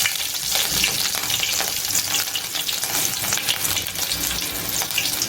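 Mustard seeds, cumin and chilies sizzle hard in hot oil, a dense, loud, steady crackle and hiss with scattered pops running throughout, no voices.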